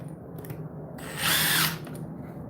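A cordless hammer drill, one of a Milwaukee 2904, DeWalt DCD1007 or FLEX FX1271T, whirs at a steady pitch during a live test, surging into a loud, harsh hammering burst midway before easing back, with no talking.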